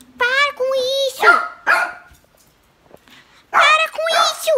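A child imitates an angry dog with loud, harmonic yelping barks in two bursts separated by a brief pause, with some speech mixed in.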